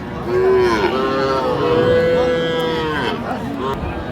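Calves and young bulls moo loudly and repeatedly at a busy livestock market in Raniganj, long drawn-out bellows close by with faint crowd murmur beneath.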